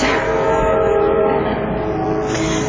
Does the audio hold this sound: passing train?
yes